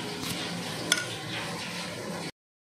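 Vegetables stirred in a sizzling pan for white sauce pasta, a low frying hiss with one sharp utensil clink against the pan before the sound cuts off.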